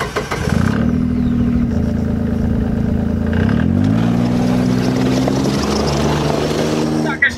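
Tinger amphibious tracked all-terrain vehicle engine cranking and catching, then a steady loud close running drone that rises in pitch partway through, continuous throughout.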